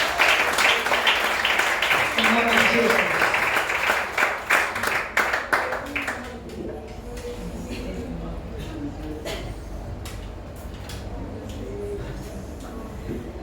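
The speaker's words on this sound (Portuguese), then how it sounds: "Aplausos mais uma vez" A church congregation claps and applauds loudly and close for about six seconds at a Portuguese-language evening service, then the clapping fades as a voice begins to speak.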